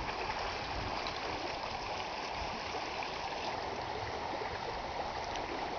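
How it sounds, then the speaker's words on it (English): Flash flood water rushes steadily down a canyon wash, a dense, continuous roar of running water close by with no pauses and no voices. "we get these little flash floods all the time"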